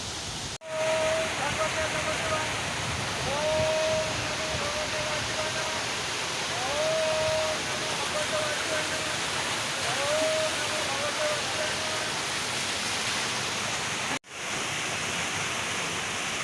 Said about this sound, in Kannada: ಇದು ಈ ಸೇತುವೆ ಕೆಳಗಿರೋ ಸಣ್ಣ ಝರಿ.